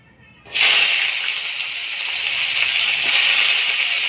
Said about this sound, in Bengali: এবার কাঁঠালের বিচিগুলো ভাজবো।